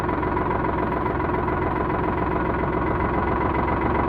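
A Sonalika 60 tractor engine idles at a steady, even rumble with a constant low throb and no change in pace, close by and without talk.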